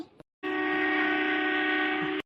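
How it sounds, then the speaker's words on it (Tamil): A train at a station sounds a long, loud, steady horn or whistle lasting nearly two seconds, with no talk over it. "ஐயோ, ட்ரெயின் எடுத்துட்டாங்களே."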